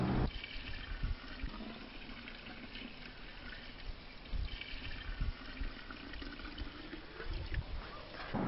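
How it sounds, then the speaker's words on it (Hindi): Cow urine pours steadily into a container holding cow dung, a continuous splashing, trickling flow of liquid close by, fairly quiet, with no voices. "अब 5 लीटर गौमूत्र भी इसमें मिला दीजिए।"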